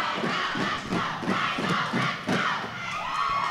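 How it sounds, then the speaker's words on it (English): A roller derby team at a tournament bout lets out a rousing group cheer, voices chanting and shouting in rhythmic bursts, loud and close for several seconds. "We're going to hear a bit of cheer from the Supervillains."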